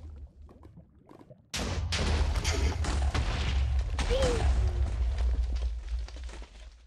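Bombs blowing up in Minecraft: after a quieter opening, a sudden loud blast sets off a dense, sustained rumble of explosions and crackling debris that lasts several seconds before easing off.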